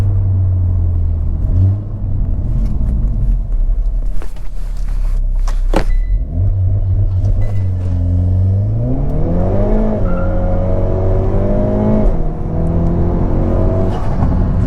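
A Hyundai Veloster N with a dual-clutch transmission and an upgraded motor mount launches hard from 0 to 60 mph, its engine roaring loudly and climbing in pitch through several quick gear shifts from inside the cabin.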